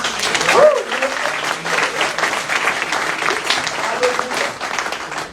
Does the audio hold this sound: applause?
yes